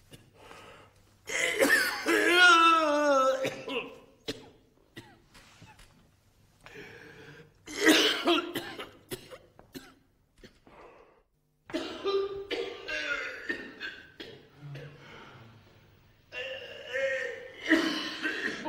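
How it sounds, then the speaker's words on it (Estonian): Repeated coughing fits, loud and close, come in several separate bursts with pauses between, mixed with throat clearing, chuckles and a little laughter. "Juba 5 minutit köhib."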